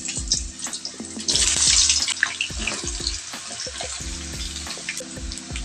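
Potatoes go into hot cooking oil in a pan while preparing beef mechado: a loud burst of hissing sizzle with some clattering, then a steadier bubbling fry with scattered clicks, close by and without speech.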